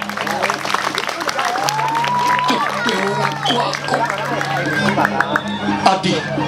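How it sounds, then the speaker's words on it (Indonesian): Clapping audience at an outdoor Balinese topeng mask performance in a temple and village, with crowd chatter and voices mixed in and a steady, moderately loud wash of sound throughout. "tepuk tangan untuk Kasuling"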